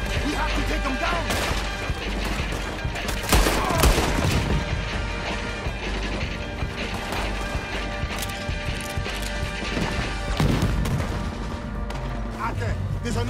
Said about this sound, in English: He's shooting! We have to take him down!